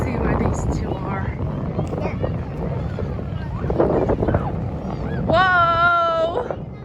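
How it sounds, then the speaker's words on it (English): Strong wind buffets the microphone at a beach, a loud, continuous low roar with gusts, while people talk and exclaim over it. "Whoa. It's windy."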